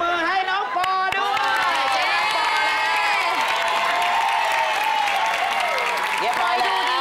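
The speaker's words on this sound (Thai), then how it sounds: "ขอเสียงปรบมือ" Studio audience at a Thai variety comedy show breaks into sustained applause mixed with cheering and whoops, loud and continuous throughout.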